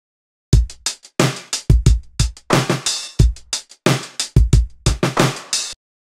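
Drum beat loop on an audio track playing back in Logic Pro: sharp kick, snare and hi-hat hits in a steady groove, loud and dry with short gaps between hits, no voices.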